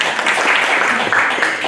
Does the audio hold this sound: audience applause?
yes